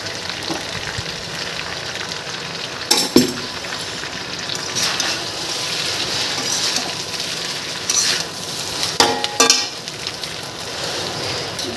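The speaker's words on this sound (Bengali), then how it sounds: "রাইসটা আমি ঢেলে দেবো এর মধ্যে" Cooked rice tipped into a pan of spiced vegetables for a vegetable biryani, then stirred, heard as a steady close sizzle with a few loud scraping thumps of the spoon against the pan.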